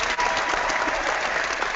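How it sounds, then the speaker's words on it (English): A live show audience gives steady applause, a dense even wash of clapping with no break and a faint crowd murmur underneath. "Can we get a little bit of a round of applause for Don?"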